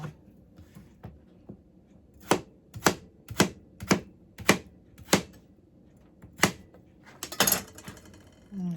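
A knife chops a carrot into tiny cubes on a board, a string of crisp, evenly spaced taps, close and clear, with a quiet kitchen background and some clatter at the end.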